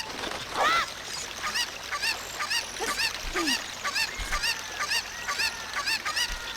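Cucco chickens in the video game Zelda: Ocarina of Time cluck and squawk in a repeating series of short, fairly faint calls over a steady background of game ambience, with no talking.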